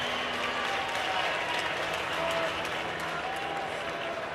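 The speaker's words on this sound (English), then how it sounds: "you can hear the crowd now start to get into it a little bit more for Kurtz" Distant crowd noise at a college baseball game, the 2023 Men's College World Series between Wake Forest and Stanford, a steady low roar of cheering and murmur from the stands with no sharp peaks.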